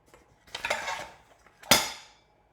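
Sugar dumped into a bowl of butter for cupcake batter, heard as two distinct rattling pours: a longer scraping pour followed by a sharper, louder clatter that fades out, close up with no talking.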